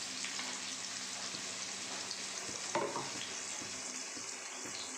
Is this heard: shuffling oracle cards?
no